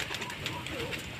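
Pigeons coo softly in the rain, a few faint low calls mixed with the patter of rain and ambient noise.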